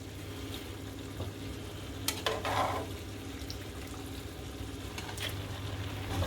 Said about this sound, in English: Just gonna give this a quick toss